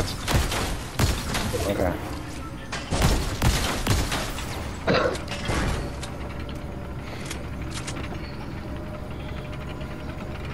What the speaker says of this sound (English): I'm shooting the robots